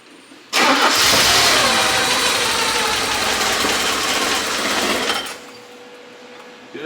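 A Porsche 944 engine cranks and catches, jumping abruptly to a loud, rough run that holds for several seconds before cutting off sharply, leaving near silence.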